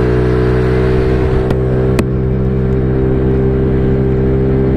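A Yamaha Mio 155cc motorbike, a daily rider with a fault, runs at full throttle with a loud, close, steady engine drone that barely changes pitch, and faint clicks on top.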